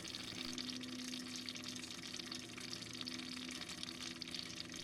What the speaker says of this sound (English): It's running along the splash pan like fleas on a dog's back.